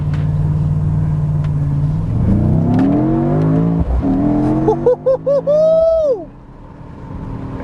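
A 2024 Mercedes-AMG GT 63 S E Performance four-door coupe accelerates hard in manual mode, heard loudly from inside through an open window, its engine note climbing steadily through rising revs with quick gear-change dips near the end before easing off.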